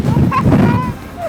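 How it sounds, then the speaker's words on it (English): Strong wind at a coastal rock lookout roars and buffets the microphone in a loud, close rumble, with some faint tonal whistling in the gusts. "the wind is making it a little crazy"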